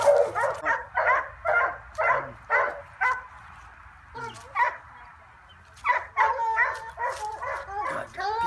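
A Redtick coon dog pup barks in short repeated bursts with whimpering and yips between, close by, pausing briefly before barking again.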